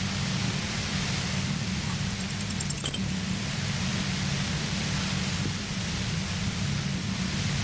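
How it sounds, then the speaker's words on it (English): Dense, overwhelming violet-white noise hums near a compressor in the video game Disco Elysium, a steady broadband hiss over a low droning rumble that holds constant throughout. "The violet-white noise becomes even more overwhelming closer to the compressor."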